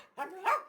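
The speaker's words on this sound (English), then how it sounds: "And Willow is constantly barking." A single short, close dog bark, sharp and a little whiny, rising at its end.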